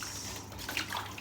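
A whole chicken being washed under running water in a kitchen, a short, steady wash of flowing water close by with light splashing.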